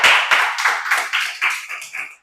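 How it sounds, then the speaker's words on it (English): Audience clapping after a speaker at a school debate, a close, steady burst of applause with dense overlapping claps that fades toward the end. "Give her a round of applause."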